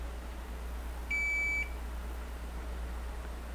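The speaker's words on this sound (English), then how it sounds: "it's quite easy to like just double check with your multimeter" A multimeter gives a single short, steady beep of about half a second while checking circuit lines on a water-damaged iPhone board. A constant low hum sits underneath.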